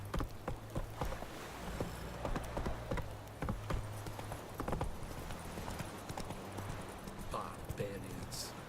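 Horse hooves clip-clopping in The Witcher 3 video game, a steady trotting rhythm of distinct hoofbeats under a low ambient hum, with a voice speaking briefly.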